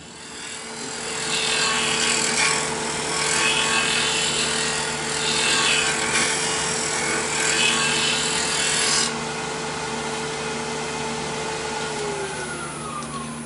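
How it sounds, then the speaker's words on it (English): A wood lathe spins a small yew hollow form while a skew chisel and a negative rake scraper clean up its shape. A steady motor hum carries a continuous scraping, cutting hiss that eases slightly partway through. "I use my skewers and negative rake scraper just to clean up the shape a little bit"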